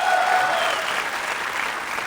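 Studio audience on a Kapil Sharma Show comedy celebrity interview set bursts into steady, dense applause, a loud continuous wash of many hands clapping with no break.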